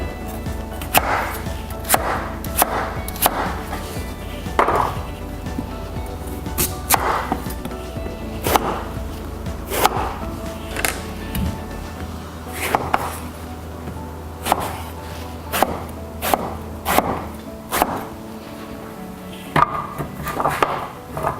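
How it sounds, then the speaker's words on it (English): A knife chops celery into roughly 2 cm pieces on a board, a run of sharp, close knocks coming in uneven bursts over a low background hum, with no talking. "Celery we're going to cut to about 2 centimetre pieces."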